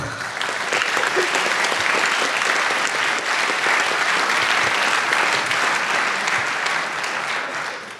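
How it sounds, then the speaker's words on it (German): Audience at a Jugend hackt Berlin youth hackathon demo session applauding steadily for several seconds, dense even clapping that fades slightly toward the end. "Ein Applaus für Leo."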